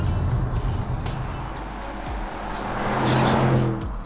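A 2023 Audi RS6 Performance quattro with an 8-speed gearbox and larger turbos running more boost drones steadily under power, with a rising rush of air near the end.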